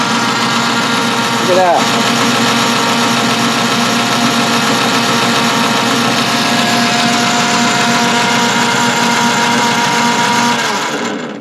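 A model lathe runs in a home workshop with its clutch engaged and lead screw turning, making a loud, continuous motor whir. A voice speaks briefly over it.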